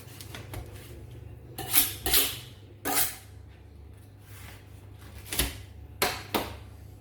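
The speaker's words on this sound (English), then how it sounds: "I don't have a bread knife, so I'm just using a normal knife to cut it actually" A normal kitchen knife, not a bread knife, cuts through crispy homemade garlic bread, giving several sharp crunching, clattering strokes spaced irregularly against a board, close and fairly loud over a low steady hum.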